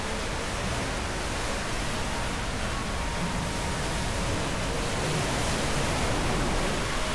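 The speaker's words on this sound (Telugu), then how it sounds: "ఈ అలలు ఎంత హెవీ ఉన్నాయంటే చూస్తుంటేనే భయం వేస్తుంది." Heavy ocean surf crashing at Mirissa, Sri Lanka, a steady, loud roar of breaking waves and churning water holding for several seconds, with no voices.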